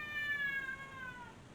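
A cat meows in a long, drawn-out whining cry with a steady tone that slowly falls in pitch, clear and fairly close with no talking over it.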